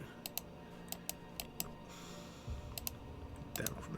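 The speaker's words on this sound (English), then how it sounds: "I always apologize for the loud clicking of my mouse" Loud computer mouse clicks during a Diablo 2 Lord of Destruction game session, sharp isolated clicks in irregular pairs and singles, close to the mic over a quiet steady hum.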